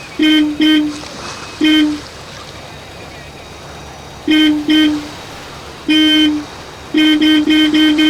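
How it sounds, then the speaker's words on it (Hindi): A car horn, apparently on a white BMW, honks in a series of short blasts, some single and some doubled, loud against quiet outdoor background hum at night. "हॉर्न बजाओ।"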